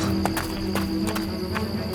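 A terrified horse galloping flat out, its hoofbeats thudding in a fast, regular rhythm over a dense, steady background bed of sound.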